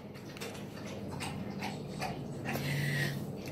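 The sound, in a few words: dog eating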